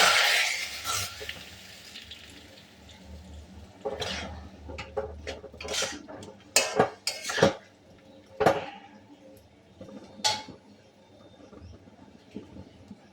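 Vegetables being mixed into hot oil with popped five-spice (panch phoron) in a pan for a mango-flavoured curry: irregular metallic clanks and scrapes of a spoon against the pan, close and sharp, with quiet gaps between.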